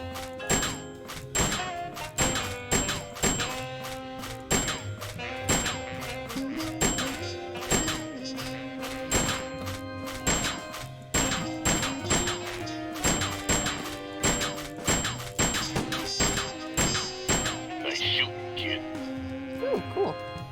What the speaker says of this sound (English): Oh, whack the rats.